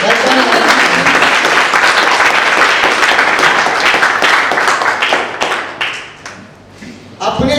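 Loud, close audience applause welcoming the next performer on stage, dense clapping with a few cheers that thins out into scattered claps and a brief lull near the end.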